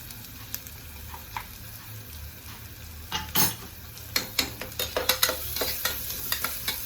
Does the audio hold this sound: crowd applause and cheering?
no